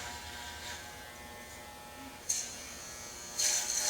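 An electric hair clipper fitted with a 1 inch guard buzzes steadily while cutting a boy's hair, with two brief louder bursts as it meets the hair.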